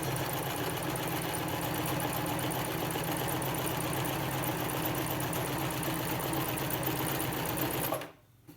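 Sewing machine stitching fabric for an AFNOR-style face mask with filter, running in a fast, steady mechanical chatter for several seconds before stopping abruptly, with a small click after.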